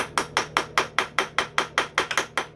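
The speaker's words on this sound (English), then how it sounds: "set this socket right in the middle of the piston and tap on it with a hammer" Hammer taps on a socket set against a stuck piston in the cylinder of a KTM 150SX two-stroke dirt bike top end, about a dozen sharp metallic strikes in steady rhythm, close and alone.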